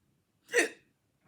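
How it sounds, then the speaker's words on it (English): A single short hiccup-like catch of breath from a woman, one quick burst standing alone in otherwise quiet surroundings. "don't tell me I got the hiccups right now"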